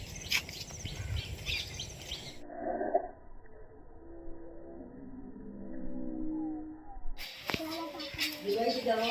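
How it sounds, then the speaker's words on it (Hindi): A young heron chick calls from a nest area after heavy rain, giving thin chirping cries over a noisy background with some talk nearby. "ये छोटा बच्चा है, बगुला जिसे बोलते हैं"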